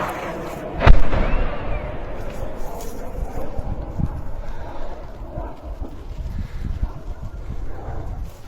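Russian FAB aerial bomb striking Ukrainian positions: one heavy, sharp blast early on, then a long rumbling roll and wind buffeting the microphone, heard from a distance.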